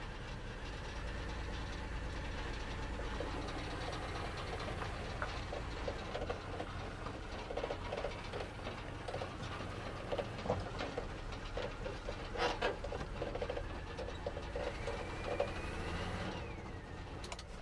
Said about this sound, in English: that still sounds pretty lumpy. We could still have a dead cylinder.